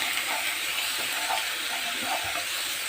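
Onion and garlic sizzling in oil on the stove for an Egyptian bessara tasha, a steady bright hiss holding evenly for about three seconds with no talk.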